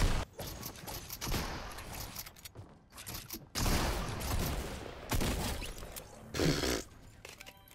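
Bursts of rapid gunfire in the video game Fortnite, loud clustered volleys separated by brief quiet gaps, with game effects and no talk.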